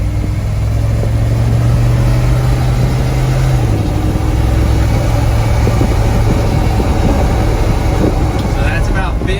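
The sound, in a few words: HEMI Jeep Scrambler engine accelerating off road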